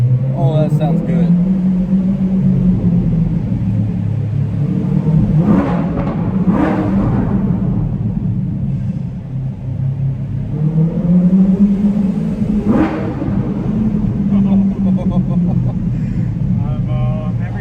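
A Chevrolet C8 Corvette with a Paragon exhaust revs inside a parking garage, its engine swelling and falling in several loud, echoing throttle blips over a deep rumble, with voices heard between and over the revs.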